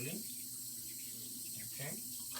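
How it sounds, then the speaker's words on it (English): Water running from a tap into a sink during handwashing, a steady hiss carrying through the whole stretch with a brief surge near the end, fairly close. "I'll wash my hand again. Okay, wash my hand thoroughly."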